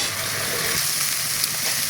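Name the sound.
onions frying in a pan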